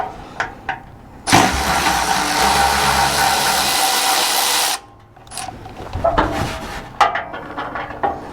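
A Milwaukee M12 Fuel 2557-20 impact wrench with a Husky impact socket runs on Toyota bolts in one loud, sustained burst of about three and a half seconds, followed by scattered clicks and handling noises.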